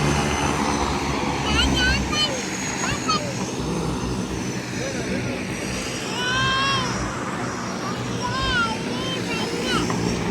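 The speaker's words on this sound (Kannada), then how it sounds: "ಏರೋಪ್ಲೇನ್." Continuous broad engine drone of an airplane passing overhead in the Maldives, with children's voices chattering above the noise.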